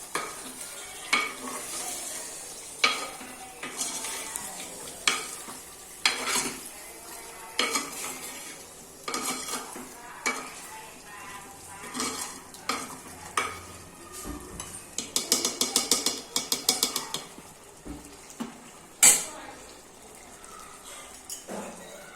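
A spoon stirs chicken curry frying in a pot, scraping and clinking against the metal in repeated strokes over a steady low sizzle, with a quicker burst of rattling stirs near the end.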